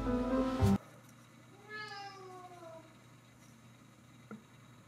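A cat gives one clear, drawn-out meow with a falling pitch, fairly close, after a short loud clatter at the start, then a quiet room with a faint click.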